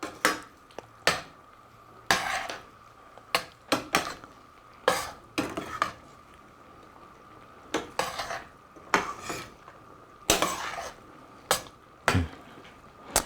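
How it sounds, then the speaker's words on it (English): A spoon knocks and scrapes against a pot of eggplant curry with coconut milk, a series of close, irregular metallic clanks over a faint background hum. "Got a good stir."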